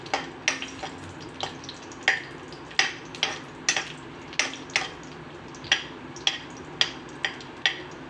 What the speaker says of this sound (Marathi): जे काप केलेत आपण ते थोडेसे फ्राय करून घेऊया